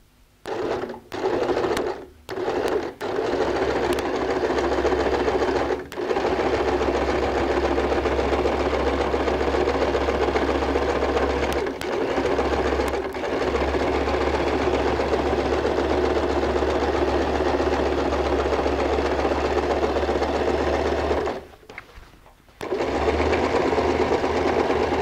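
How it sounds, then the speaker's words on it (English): A sewing machine running a zigzag stitch around a denim appliqué on a jeans bag, in long steady mechanical runs broken by a few brief stops, close and loud with no voices. "Place the center of your foot to the edge of your applique and then sew a zigzag stitch."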